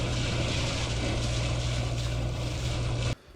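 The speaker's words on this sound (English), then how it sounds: "About to start the engine." The inboard engine of a Colin Archer 46 sailboat drones steadily and loudly at close range, a constant hum, then cuts off abruptly near the end.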